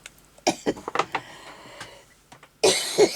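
A person coughs in a short run of harsh bursts, then goes quiet and breaks into a louder, stronger cough at the end, close and clear with no talking.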